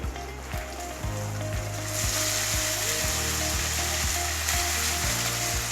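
Ginger-garlic paste fries in a pan for keema biryani, a close, steady sizzle that swells louder after the first couple of seconds, over a low repeating hum.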